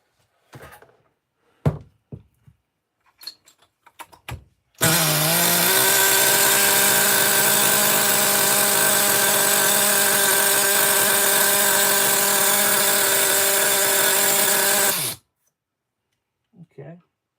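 Nitro engine on a Losi XXX-NT RC truck, after a catastrophic failure and repair, revving in a loud high-pitched sustained scream for about ten seconds, preceded and followed by short bursts and clicks with people talking nearby.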